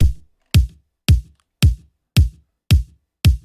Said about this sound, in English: For the kick, I took it from an Oliver sample pack, a little loop, and it sounds like this